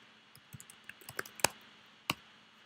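Quiet, close keystrokes on a computer keyboard while code is typed, an irregular run of soft clicks with a couple of sharper key strikes, followed by a pause and one final tap.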